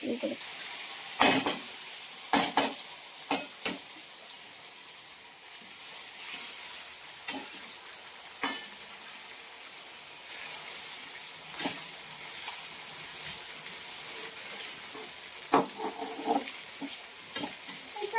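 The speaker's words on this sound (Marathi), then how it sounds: "आता हे चांगलं ना तेलामध्ये भाजून घेणार आहे मी" Ground masala paste with cumin and coriander frying in oil in a pan, a soft steady sizzle broken by sharp clatters of a spoon stirring against the pan, close and fairly quiet.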